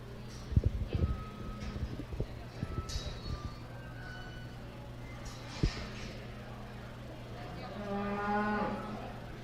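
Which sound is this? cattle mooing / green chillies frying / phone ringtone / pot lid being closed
cattle mooing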